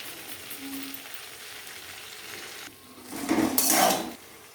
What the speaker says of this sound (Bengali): চিংড়ি মাছটা আমি বেশি সময় ভাজবো না, অল্প ভেজে নেব।